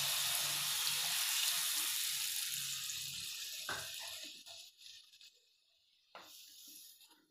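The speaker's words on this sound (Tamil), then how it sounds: "கொஞ்சமாக தண்ணி இதில் சேர்த்துக்கோங்க." Steady broadband hiss of water pouring into a pan while making Chettinad vathal puli kulambu (tamarind curry), for several seconds, fading out, followed by a couple of brief clinks and splashes.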